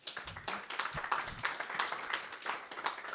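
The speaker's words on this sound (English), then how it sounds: "Claps." Audience applause at the end of a capstone project presentation, a brief dense patter of many hands clapping steadily for about three seconds in a room.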